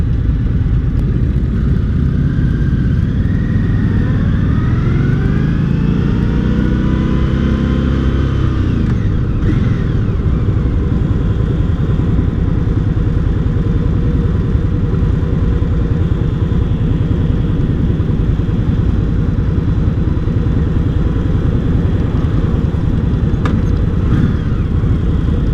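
An Indian Scout 60 motorcycle engine runs steadily while riding, a loud continuous drone with rising and falling revs early on, heavy wind rush throughout and no voices.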